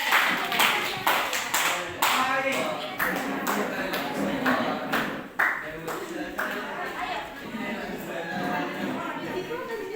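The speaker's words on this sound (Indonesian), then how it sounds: "tepuk tangan untuk kelompok 5" A classroom of students claps for a presenting group, a steady burst of hand claps with a few sharper taps and faint chatter mixed in.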